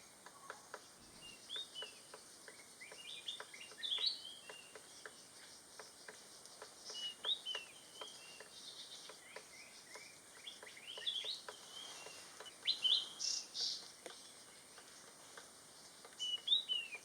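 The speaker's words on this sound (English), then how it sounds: "enjoy the white-browed picolet." White-browed piculet in Thailand giving high, thin chirping calls in short bursts, spread across the recording over a faint steady insect drone with light ticking.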